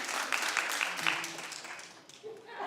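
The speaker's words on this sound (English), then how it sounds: "Clap if you mean it." A talk-show studio audience claps in a brief, moderately loud burst, dense hand claps that thin out and fade within a couple of seconds as a voice begins to speak.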